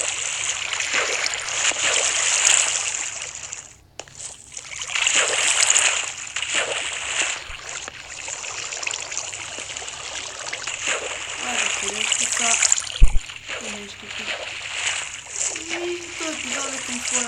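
Water sloshes and splashes in Minecraft survival gameplay, a continuous trickling wash in surges with brief lulls, and a person talks over it.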